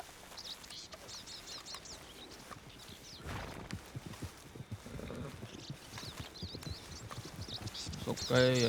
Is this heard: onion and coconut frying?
no